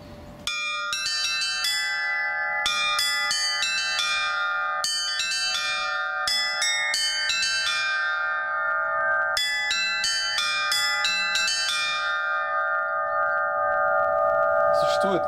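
Church bells cast by the Litex foundry in Moscow and the Shuvalov foundry in Tutaev ring in a continuous chiming pattern, small bells struck in rapid clustered runs over a sustained deeper tone, loud and close.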